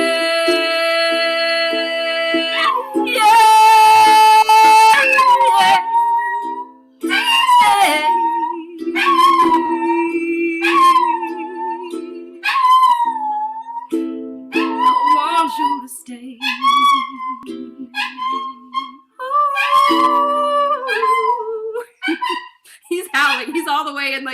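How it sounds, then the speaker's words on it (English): A dog howls along to a song for a long stretch, its drawn-out wavering howls rising and falling in pitch over the music, loud and close. "What does that song do to that dog?"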